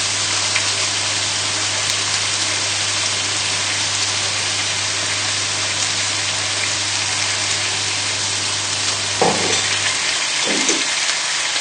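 Chilli chicken stir fry with soy sauce sizzling steadily in a hot pan, a dense continuous hiss with a low hum underneath and a couple of brief clatters near the end, no voices.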